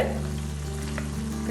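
Chicken sizzles steadily as it fries in a pan for shawarma, a continuous close hiss with a low background hum and no talking.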